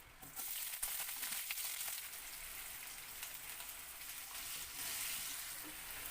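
Onions sizzle gently in a pan as they fry for a Bengali mutton dak bungalow curry, a soft, even crackle with occasional pops, fairly quiet and with no talking.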